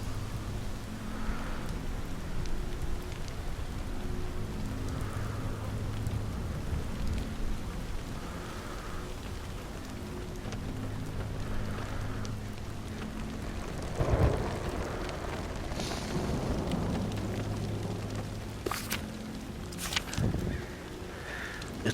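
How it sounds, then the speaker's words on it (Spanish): Steady rainfall in the video game The Walking Dead: Saints & Sinners, a constant hiss of rain with a low ambient hum underneath and a few sharper knocks and rattles near the end. "Está lloviendo. Es el primer día que está lloviendo."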